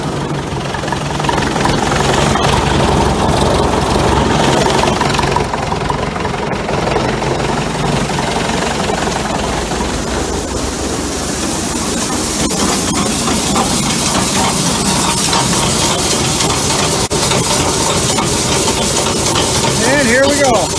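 Minneapolis Moline tractor running with its PTO engaged during the soybean harvest, a loud steady low engine drone and mechanical clatter that continues throughout, with a voice talking over it at times.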